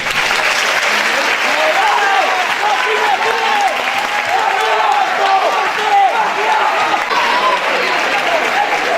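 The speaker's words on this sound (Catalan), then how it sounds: "Rebem amb un fort aplaudiment els nostres músics i el seu director." Loud, close applause from a school end-of-year festival audience for musicians and their director, dense continuous clapping mixed with crowd voices and scattered cheering throughout.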